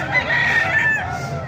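A rooster crows once, close and loud, over a low background murmur of other fowl at a chicken market in Baliuag, Bulacan.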